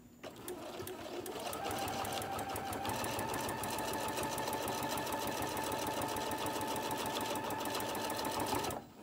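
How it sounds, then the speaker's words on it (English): A sewing machine stitches Velcro onto a koozie with a steady, fast mechanical whir and rattling needle rhythm, running continuously and close for about nine seconds before stopping. "we're going to sew all the way around on each piece of Velcro so we can hold this in place"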